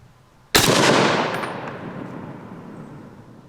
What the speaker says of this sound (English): we'll go ahead and take our first shot and see where it goes